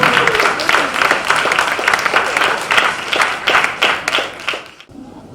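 A crowd at a 2020 Martin Luther King Jr. celebration applauds its Spirit Award winners with close, lively clapping and crisp individual claps standing out, before the sound cuts off abruptly near the end.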